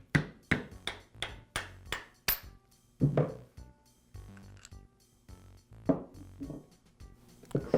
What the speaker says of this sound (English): I'll use a rubber mallet to do that.